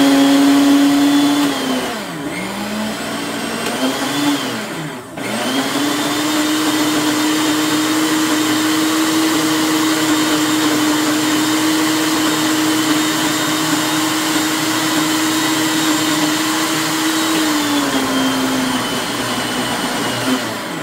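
A kitchen blender purees chickpea guacamole with a loud, steady motor whine that dips briefly twice early on, then runs continuously before winding down near the end.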